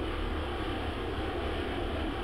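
Steady, loud jet engine roar of a Boeing airliner on approach in the flight simulator game X-Plane 11, a continuous broadband drone held evenly throughout with no talk.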